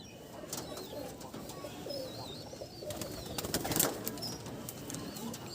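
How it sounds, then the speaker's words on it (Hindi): A pair of same-breed fancy pigeons in Howrah gives low cooing calls, mixed with a few wing flaps and faint chirps, alone and at moderate distance. "एक ही नस्ल का कबूतर है ये"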